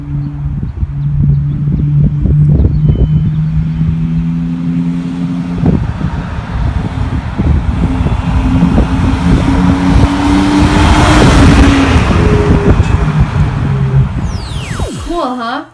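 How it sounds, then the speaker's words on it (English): A car drives past close by, its engine tone rising loud on approach and then dropping sharply in pitch as it passes and fades, with a brief rise in road and engine noise near the end. "As the car approaches me, the pitch of the engine sound was high, and then suddenly after the car passed by, the pitch of the engine sound was low."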